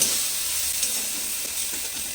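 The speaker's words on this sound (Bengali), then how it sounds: "এই তেলের মধ্যে আমি রসুনটা যেটা থেতো করে রেখেছিলাম এখন দিয়ে দিচ্ছি" Crushed garlic frying in hot oil gives off a steady, close sizzling hiss with faint crackles, unbroken for the whole stretch.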